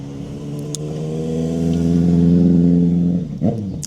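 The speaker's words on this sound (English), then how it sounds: "You see all the cars going past, people walking past." A car drives past on a country street, its engine hum rising steadily as it approaches, peaking at close range and then falling away, with a short burst of another vehicle's noise at the end.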